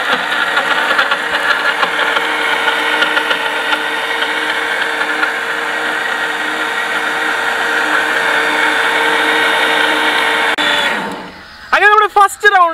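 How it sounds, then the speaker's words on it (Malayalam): A kitchen mixer grinder whirs loudly and steadily as it blends strawberry milkshake with vanilla ice cream, a continuous motor drone close up that cuts out near the end, followed by brief talking. "നമ്മുടെ മിക്സി നമ്മൾ ഓൺ ചെയ്യാണ്."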